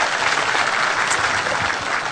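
Round of applause at an annual seminar session for a speaker, a former Kenyan transport minister: a full, even wash of crowd clapping filling the whole short stretch without pause.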